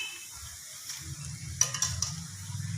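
Chicken bread rolls fry in hot oil over medium heat, giving a quiet, steady sizzle with a few crackling pops as they turn golden.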